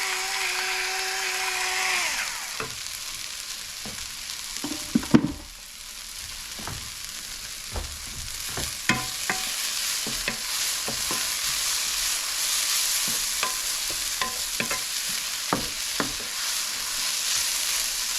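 Garlic fries in a pan while salmon with mushrooms cooks, a close sizzle broken by repeated scraping and clinking stirs of a utensil, with a short dip in sound midway.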